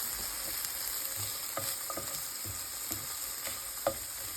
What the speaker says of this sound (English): add my ham and my peppers to my skillet